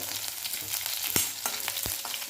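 Crushed garlic, green chilli pieces and curry leaves crackle and sizzle in hot oil over low gas, a close, busy frying hiss punctuated by sharp spits and pops.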